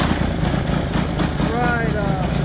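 A turbocharged diesel lawnmower engine, an XLT, is cold-started and runs with a loud, close, rough rumbling idle and a rising whine, while a person talks over it.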